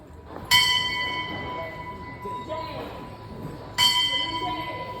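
A metal bell at Jivdani temple in Virar rings twice, a few seconds apart, each strike ringing out clearly over a murmuring crowd of devotees and nearby voices.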